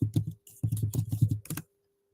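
Rapid bursts of keystrokes on a computer keyboard, two quick runs of clicky taps separated by a short pause, close and fairly loud with no talking.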